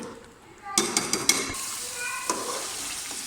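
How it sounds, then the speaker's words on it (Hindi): Chicken korma with almonds being stirred in a pot of ghee and masala: sharp scraping clinks of a spoon against the pot come first, then a soft, steady sizzle as it cooks. "इसको मिक्स करते हैं और इसको पकने के लिए रख देते हैं"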